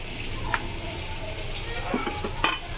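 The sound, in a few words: fish frying hot in a pan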